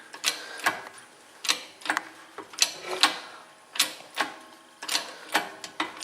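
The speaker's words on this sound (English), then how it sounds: "Here we go, cranking down on the press." A hand-cranked press pushes a bushing out of a Mopar upper control arm, giving repeated sharp metallic clicks and creaks at an uneven, ratcheting rhythm, close and distinct.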